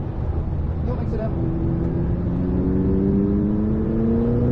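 A McLaren 600LT accelerates hard on a test circuit, its engine note climbing steadily through the rev range, loud and close from inside the car, with no talk over it.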